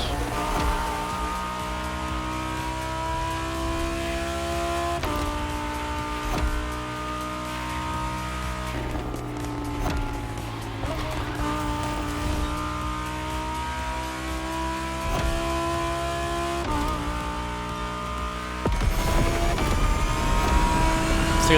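A car engine in The Crew Motorfest racing game drones steadily and loud as it drives, with shifting gear pitches and a surge of revving near the end, no talk over it.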